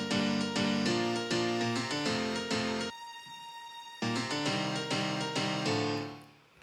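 Tropical house track: a violin section sustains a single high top note over layered chords, a snap and sub bass, loud and continuous. The full mix drops away briefly to a lone high tone, then returns and fades out.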